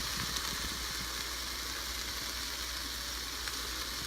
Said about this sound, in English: we are going to take our 1 pound of turkey and add that right into our pan